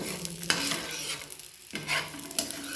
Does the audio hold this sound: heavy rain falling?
no